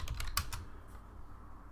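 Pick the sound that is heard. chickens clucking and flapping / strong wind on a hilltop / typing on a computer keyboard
typing on a computer keyboard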